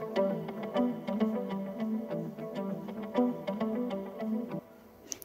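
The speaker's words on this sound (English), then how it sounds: "guitar loop, and it actually sounds like this" A quiet, clean guitar loop for an ambient Afrobeat produced in FL Studio, plucking a short repeating melodic figure with light effects, playing alone and then fading to near silence.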